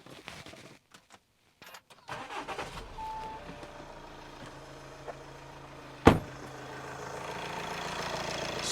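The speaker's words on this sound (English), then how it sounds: "I'm just going to start the car up now" An Audi A6 C7 recovering from crash damage cranks briefly after a few quiet clicks, fires with a sharp bang-like catch, then settles into a steady close idle.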